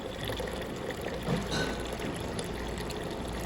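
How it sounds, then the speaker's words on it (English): Water drained from a bio quantum compressor machine to depressurize it, a steady close pouring and trickling stream into a container that runs continuously without pause. "we're gonna start pulling water out to depressurize the machine"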